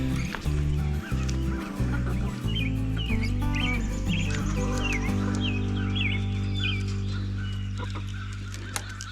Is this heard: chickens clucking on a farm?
yes